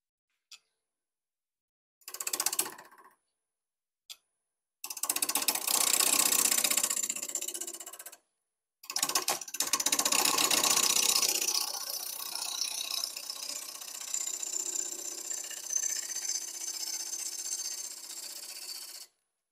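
A woodturning lathe cutting into a spinning apple log, giving short bursts of loud ragged tool chatter, then a long sustained rough cutting roar that gradually eases into a steadier hum, with no talking.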